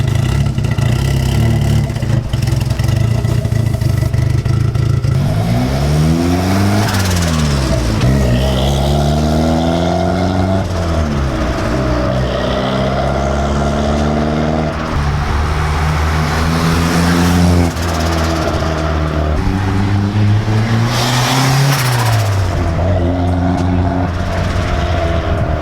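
A Honda Civic EG hatchback with a newly installed exhaust drones loudly and continuously as it drives, its engine revving up and down through the gears with voices talking over it.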